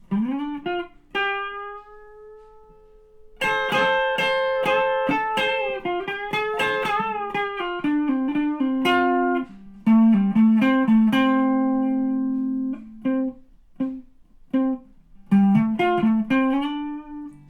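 An electric guitar slowly plays the solo from a song, notes ringing and bending one after another with some sustain, close and loud, no voices.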